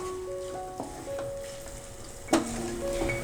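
Tomatoes and vegetables fry over a low to medium gas flame, a soft steady sizzle with a few light clinks and a sharp utensil tap partway through, no talking.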